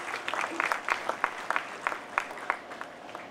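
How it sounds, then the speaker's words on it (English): Audience applause at the inauguration of a cinema expo, a steady patter of many hands clapping with scattered sharper claps, moderately loud and sustained throughout with no one speaking. "can we please give him a huge, huge round of applause?"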